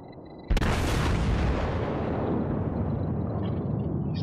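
An American battleship's main guns fire in World of Warships: one sudden, very loud blast that rolls into a long, fading rumble lasting several seconds, with no talking.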